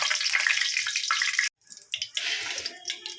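Whole cumin, a cardamom pod and dried chillies crackle in hot oil left from frying potatoes, a loud steady sizzle that cuts out abruptly, then resumes with uneven spitting bursts.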